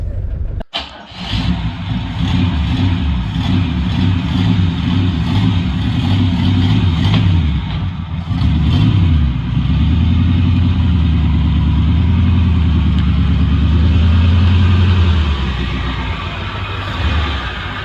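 A 1972 AMC Javelin, restarted after 52 years parked and with one likely dirty plug, cranks, catches and runs loud and close, its engine rumbling steadily with revs rising and falling throughout.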